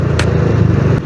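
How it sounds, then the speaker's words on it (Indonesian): Suzuki Thunder 125 motorcycle cruising along, a steady low engine drone with a faint rattle, close and continuous for a moment. "santai banget bawa motor cuy"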